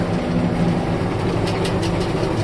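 A Niva combine harvester working soybeans drives slowly along, its heavy diesel engine giving a loud, steady low drone with a continuous rumble and a few faint rattles above it.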